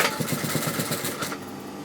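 An overlocker sewing machine runs in a fast, rattling whir while overlocking two joined fabrics, heard close for under two seconds before it slows off.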